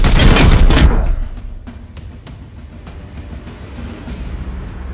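A loud burst of rapid gunfire in the video game Warhammer 40,000: Chaos Gate - Daemonhunters opens, then trails into scattered sharp shots and clatter at a lower level.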